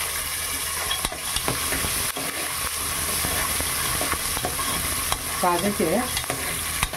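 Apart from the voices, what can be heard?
brinjal curry frying and being stirred in a pan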